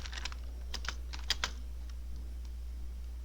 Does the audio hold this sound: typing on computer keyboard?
yes